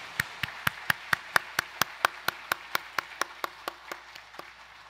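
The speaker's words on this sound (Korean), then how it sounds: "영광의 박수 올려드리겠습니다." Clapping in a church service, a steady run of about twenty crisp, evenly spaced claps that fade gradually toward the end, close and alone with no voices.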